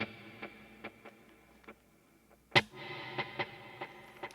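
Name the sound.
guitar through stereo transistor tape delay on HX Stomp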